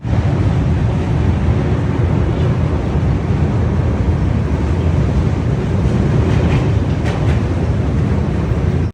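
A steady, loud rumbling roar of a long-distance passenger train running through Assam continues without a break, dense low noise filling the whole stretch.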